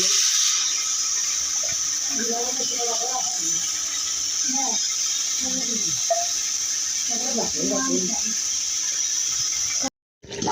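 Water poured into a pot of village-style chicken biryani, a continuous bright hiss that runs steadily for about ten seconds before cutting off abruptly, with a voice speaking in short phrases over it.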